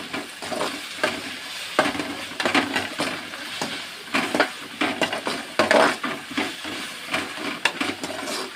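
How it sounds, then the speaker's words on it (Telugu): Food being stirred in a pan with spice added to a two-kilogram batch, giving repeated scraping strokes against the metal over a soft sizzle and hiss of frying, close by and irregular in rhythm. "ఒకసారి కలుపుకుందాం."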